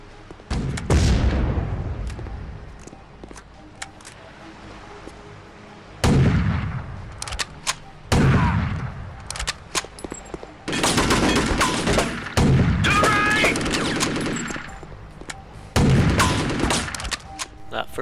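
Gunfire and grenade launcher shots ring out in the shooter game Chaser, set in a harbour area, as several loud, booming bursts separated by short pauses, each followed by rattling fire and a fading echo.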